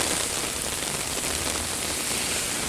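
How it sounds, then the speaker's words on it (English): Steady rain falls outdoors beside a street, a constant dense hiss and patter that stays even throughout with no voices. "You can see some good rain there."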